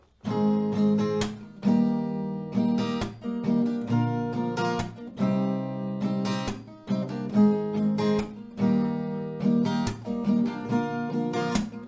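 Close acoustic guitar strums a repeating chord progression in a steady rhythm, bright strokes and ringing chords cycling through several rounds.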